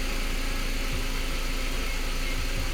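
A 2001 Volkswagen Beetle engine idles with a steady, even, continuous hum and buzz, close and unchanging throughout.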